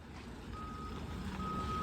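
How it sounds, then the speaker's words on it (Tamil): A truck backing into an unloading shed at a plant near Bangalore sounds its reversing beeper, two steady tones at a distance over a low engine rumble, brief and fairly faint. "அந்த செட்டுக்குள்ளே கொண்டு போகணும் வண்டி ரிவர்ஸில்."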